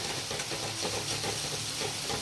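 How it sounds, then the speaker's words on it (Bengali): Spice masala sautéing in a pan while being stirred, ahead of adding chopped tomato, gives a steady broadband sizzle with faint scraping, continuous and close throughout. "এটা একটু কষাবো, মশলাটা কষানোর পরে দিয়ে দেবো টমেটোটা"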